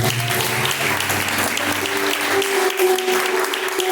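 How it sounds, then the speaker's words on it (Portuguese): Steady, dense applause from a church congregation praising God fills the whole stretch, even and sustained without pauses. "As palmas que louvam o nome do Senhor."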